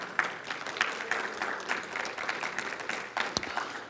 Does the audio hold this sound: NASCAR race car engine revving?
no